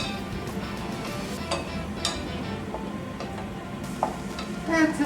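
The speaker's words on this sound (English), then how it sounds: "Oh, get all that garlic in there. And so we're gonna let this brown for about 30 seconds." Garlic sizzles in a hot pan for Chicken Alfredo, a close, steady crackling hiss broken by occasional scraping and clicking strokes of a utensil stirring the pan.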